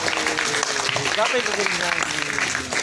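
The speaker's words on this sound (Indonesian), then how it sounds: "Tepuk tangan untuk Bapak Ibu guru semua" Applause for teachers at a school student-council debate, a moderate steady clapping heard under a lively mix of crowd voices and talk throughout.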